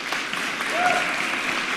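Applause from a large crowd of about 51,000 people at a packed motivational event, a dense steady wash of clapping across the whole short stretch, with a faint voice briefly rising over it.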